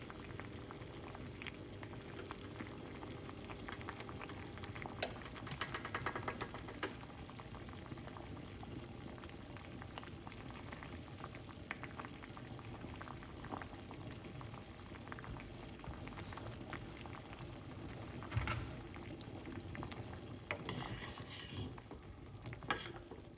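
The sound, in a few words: water boiling for a detox drink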